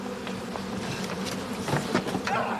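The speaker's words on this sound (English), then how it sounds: "I'm being attacked by bees." A dense swarm of honeybees buzzes steadily, a close, droning hum with scattered louder passes and no voices.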